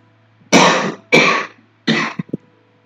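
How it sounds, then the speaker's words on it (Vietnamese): A person coughs three times in close, dry bursts, the last one trailing into a couple of short throat sounds, with no talking during it. "hơi ho một chút"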